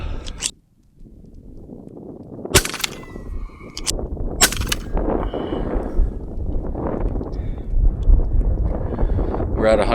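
A REX-P .35 caliber PCP air pistol, shot in a carbine-style hold, cracks twice in sharp bursts about two seconds apart, with a steady outdoor wind rumble running underneath.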